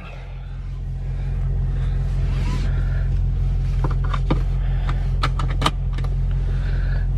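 An Audi RS6 Avant engine hums low and steady from inside the cabin as the car pulls away, rising slightly at first, with a few brief clicks and rattles over the drone.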